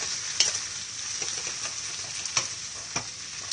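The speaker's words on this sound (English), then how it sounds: "I'm gonna get them stir fried together pretty quick. Want it hot and fast." Food stir-fried hot and fast in a wok: a constant close sizzle broken by a few sharp scraping tosses of the spatula, with no voices.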